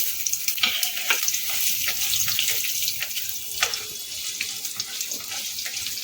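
Diced potatoes fry in a pan over a cumin tempering with a steady bright sizzle, while a spatula scrapes and stirs them in repeated sharp knocks close by, with no speech.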